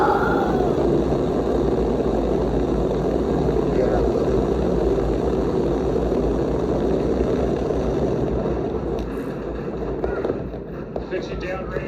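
A rocket launch after countdown and ignition plays in a science museum's digital dome space show. It is a sustained low rumbling roar that fades slightly toward the end, with a voice speaking over it.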